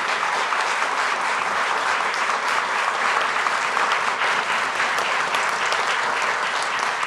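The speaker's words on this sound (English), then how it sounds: "Let's give them a round of applause." The audience at a Kentucky gubernatorial debate breaks into sustained applause, a steady and fairly loud wash of clapping from a large crowd that lasts the whole stretch.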